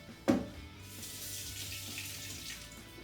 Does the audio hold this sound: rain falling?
no